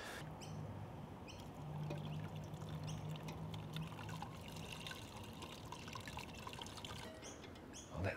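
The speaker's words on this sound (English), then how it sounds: "so now I'm going to pour the whey over our sort of vegetable offcuts" Whey from homemade ricotta pours through cheesecloth onto vegetable offcuts in a backyard kitchen, a steady close trickle and splash lasting several seconds with faint birdsong behind it.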